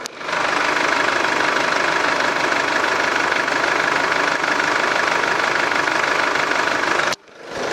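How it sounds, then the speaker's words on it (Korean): With the hood open, a Chevrolet Cruze diesel engine idles close up with a steady, clattery, even hum that runs unbroken for about seven seconds before a brief cutoff. "엔진 소리 한번 들어볼게요."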